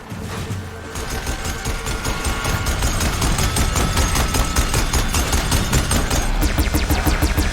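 Rapid, continuous automatic weapon gunfire from the Horizon Forbidden West video game rattles loudly and densely. It swells after a brief quieter start and holds for several seconds over a low rumble.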